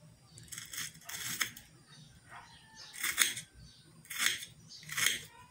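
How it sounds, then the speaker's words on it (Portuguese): Bis chocolate wafer bars being cut with a knife for a Bis stroganoff dessert, giving a series of crisp, crunchy snaps in irregular bursts, close and fairly loud in a quiet kitchen. "Agora eu vou deixar reservado e vou cortar os bis."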